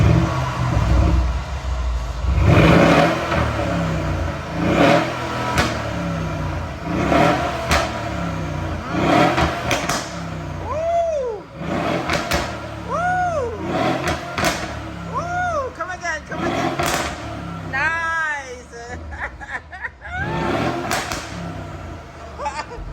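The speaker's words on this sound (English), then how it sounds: "Now we're gonna start it up and give it some revs." A Mercedes ML63 AMG engine starts and revs repeatedly through its exhaust, rising and falling in pitch with sharp bursts, loud and close, with a few voices in between.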